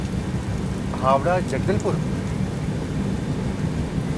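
Steady rain hisses as a broad wash during a train journey through Odisha at a level crossing, with a voice speaking briefly over it.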